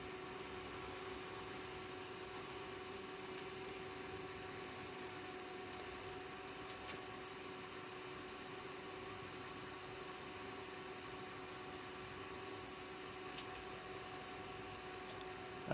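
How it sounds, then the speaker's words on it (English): A Chinese 1800 watt induction heater runs under load, giving a steady, faint electrical hum with a constant whine that holds unchanged throughout. "Turning the induction heater on"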